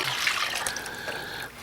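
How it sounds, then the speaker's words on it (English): Water pouring into a pot of leek and potato soup, a short steady splashing trickle heard close by. "then add more water."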